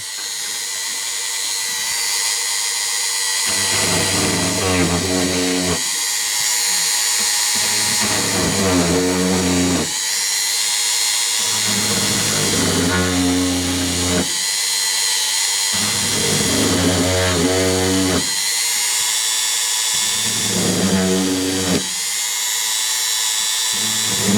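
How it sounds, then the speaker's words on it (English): A power drill runs in repeated long bursts, drilling holes in a TRIAD radio cabinet, steady whining stretches broken by brief gaps, its tone dropping each time it bites into material. "I'm going to continue to drill these holes."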